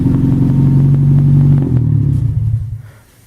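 An Exocet kit car engine with no coolant idles loudly with a deep, steady rumble, then stumbles as the revs sag and shuts off, leaving near silence.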